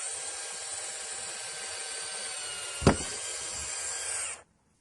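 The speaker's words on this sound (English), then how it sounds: "Using a 3/16 drill bit, drill a hole for the mounting screw." Power drill with a 3/16 bit boring a screw hole in a pet door while fitting an antenna housing, a steady whirring drone with one sharp knock near the end before the motor stops abruptly.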